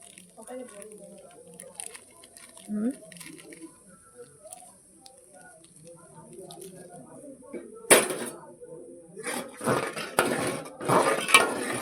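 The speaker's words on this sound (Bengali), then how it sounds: "দুধটা আগে ভালো করে গুলে নেবো।" Powdered milk stirred into boiling water in a pot, with soft clinks and scrapes of a utensil against the metal pot and brief clattering bursts toward the end; a voice talks over the stirring.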